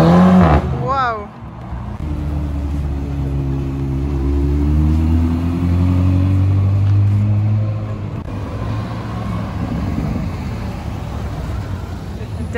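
An Audi RS6 drives past on a street in Knokke, its engine note rising as it nears and then falling away, loud and close, with a voice briefly heard nearby.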